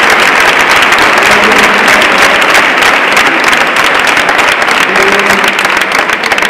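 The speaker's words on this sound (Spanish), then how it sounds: "Un aplauso." Sustained loud applause from the audience at a Rocío proclamation ceremony in Spain, dense continuous clapping filling the whole stretch without a break.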